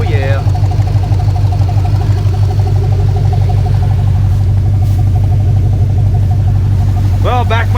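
A '74 Chevy pickup engine runs with the battery disconnected, idling in a loud, steady, close rumble throughout. A brief voice is heard near the end.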